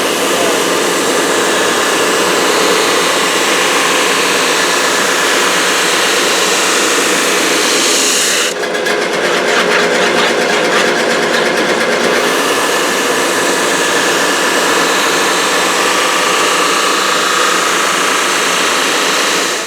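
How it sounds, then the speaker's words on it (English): A thickness sander runs on a maple guitar top with a loud, steady roar. Partway through, a harsher, grittier rasp sets in for a few seconds as the wood feeds through, and no one talks. "when your pieces come off of the thickness sander and they are sanded to the right thickness"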